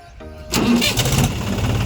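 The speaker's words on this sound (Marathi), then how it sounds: "आता चावी फिरव." A tractor engine cranks and catches as the key is turned, a brief quiet start giving way to a sudden loud, rough chugging idle up close.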